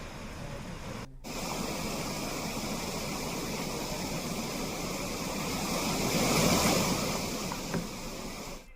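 A swollen river rushes through an area in Uttarakhand where a Scorpio SUV got stuck trying to cross, its broad roar steady and loud after a brief cutout, swelling slightly toward the end, with no talking.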